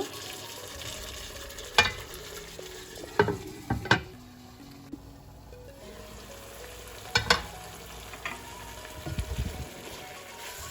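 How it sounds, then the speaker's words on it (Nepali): Chicken and spices fry in a pan for chicken biryani made with homemade biryani masala. A steady, close sizzle runs throughout, broken by a few sharp clinks and scrapes of stirring. "चिकन पनि राम्रोसँगले यसरी भुटिनुपर्छ, मसलाहरू यसरी राम्रोसँगले पाकेर आउनुपर्छ।"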